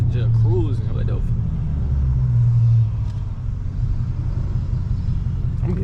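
A fully straight-piped Dodge Scat Pack rumbles deeply while cruising, its low exhaust drone loud and continuous, swelling briefly before settling, with a voice heard early on.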